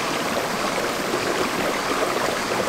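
Mountain valley stream water rushing and flowing steadily, a loud, continuous broadband wash of water with no pauses throughout.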